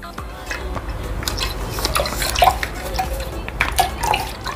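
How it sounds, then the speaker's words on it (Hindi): Packaged milk pours from a packet into a pan while egg halwa is being made, giving a steady, close liquid splash with small drips throughout. "तो ये दूसरा पैकेट भी अब इस बॉयल में जाएगा।"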